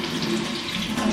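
Tap water runs steadily into a sink while raw shrimp are rinsed, a brief, even rush with no voices.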